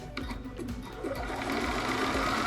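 A Bernina sewing machine running a satin stitch with a circular embroidery attachment, a steady close mechanical whirr that starts with a few quick clicks and then hums evenly, alone without talk.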